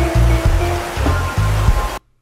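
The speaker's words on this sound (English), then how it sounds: "A lot more ocean sound in that original audio." Ocean waves wash in a continuous loud roar with rhythmic low surges, heard for about two seconds before cutting abruptly to silence, with no one talking.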